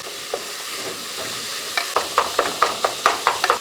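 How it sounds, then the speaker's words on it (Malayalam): Onions sizzle steadily in a hot pan, and from about halfway a spoon scrapes and stirs them in a quick, regular series of clicks. "ഒന്ന് ഇളക്കി കൊടുത്ത് സവോള ഒന്ന് വാഴ്ത്തിയെടുക്കും"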